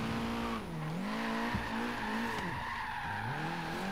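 Tires squeal in a long, wavering pitch as a car drifts through a drift competition course in Forza Horizon 3, with engine drone underneath and the screech rising and falling across sweeping turns.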